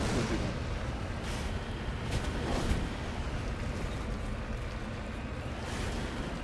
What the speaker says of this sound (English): They changed the sound for the gun.